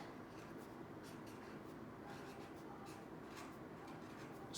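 Pen or marker scratching out a single word by hand in a grade 1 classroom lesson, a soft steady scraping of strokes close by with no one talking.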